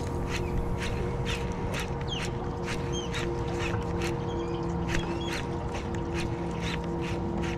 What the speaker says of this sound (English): This bird's trying to get it. Look at this bird.